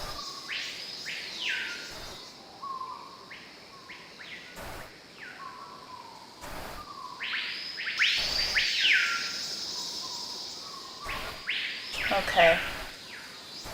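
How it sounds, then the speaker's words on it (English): Birds chirp and call intermittently through the ambient soundscape of the Nancy Drew Secret of the Scarlet Hand video game, with short tweets and trills over a soft background hum and a brief spoken word. "I'm loving these bird sounds. Very calming."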